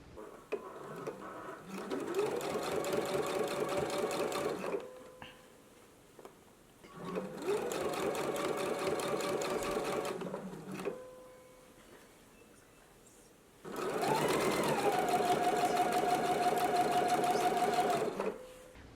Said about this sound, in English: so I'm going to do a stitch in the ditch for mine